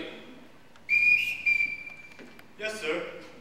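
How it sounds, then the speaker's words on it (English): A stage show of The Sound of Music with chapel choir and orchestra: a sharp, shrill whistle blows once as a signal, followed by a shorter second blast and a brief spoken reply in the hall. "Everyone in this house answers to a whistle."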